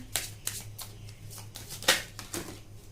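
Deck of cards shuffled by hand in a few quick riffling bursts and soft slaps, close and fairly quiet, with no voices over it.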